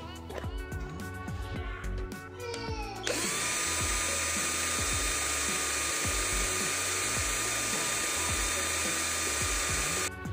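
A Deli DL600012 12V cordless drill whirs up to speed in second gear, a steady high-pitched motor whine that starts abruptly after brief clicking and handling noises and holds loud and close to the end.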